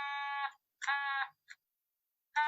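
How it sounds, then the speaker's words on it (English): A thermal oscillator automaton gives off bright, buzzy electronic chirps in short bursts, two longer tones, a brief blip and a final burst, with silent gaps between, faint and alone. "it's a thermal it's some kind of oscillator, and it makes these really cool sounds like this."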